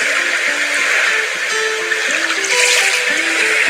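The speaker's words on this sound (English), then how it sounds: "So hear the water, hear the waves." Water and waves woven into a song with a tropical flow, a broad hiss of surf running steadily beneath sustained tonal melody lines.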